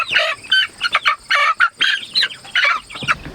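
Cornish Cross meat broilers squawk loudly and repeatedly while being carried out to join other broilers on pasture, close up in rapid overlapping bursts with some wing flapping.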